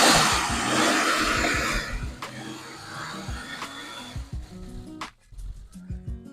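The M20 engine of a BMW E34 525i, with a newly replaced serpentine belt, revs up from a steady idle with a rising mechanical roar, then settles and chugs back down nearby.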